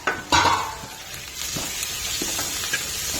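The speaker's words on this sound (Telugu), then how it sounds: "ఇవి ఆనియన్స్ బ్రౌనిష్గా వచ్చిన తర్వాత పసుపు, ఉప్పు వేసుకోవాలి. మిక్స్ చేసేసుకొని" Browned onions with turmeric and salt stirred in a pan for a curry: a soft sizzle with a sharp utensil scrape near the start and light scraping strokes after.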